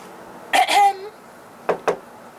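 A voice imitates a discreet cough in a performed reading of the Miller's Tale, giving a short, soft double cough followed by two quiet knocks.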